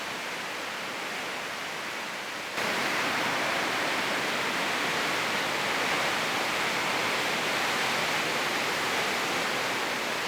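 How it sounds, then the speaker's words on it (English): A loud, continuous roar of rushing water from Trümmelbach Falls, a waterfall inside a rock cave in Switzerland, fills the space, dense and unbroken, growing fuller after a few seconds. "You just won't believe the power and the sound of the river."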